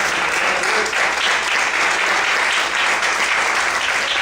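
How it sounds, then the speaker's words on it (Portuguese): A church congregation applauds the Lord loudly during a morning worship service, with sustained, dense clapping that fills the whole stretch evenly and close by, with no talk over it. "Você pode aplaudir o Senhor essa manhã bem forte."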